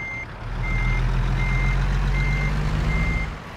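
Peterbilt truck reversing in American Truck Simulator: steady evenly spaced backup beeps over a loud low diesel engine drone, no talking.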